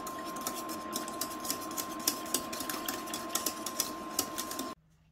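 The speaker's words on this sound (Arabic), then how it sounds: "منين تيكون تيغلي كنستمر في التحريك حتى تيغلي مزيان" A strawberry cake mixture boiling in a pot while being stirred: a spoon clicks and scrapes against the pot in irregular taps over a steady background hum, ending in near silence.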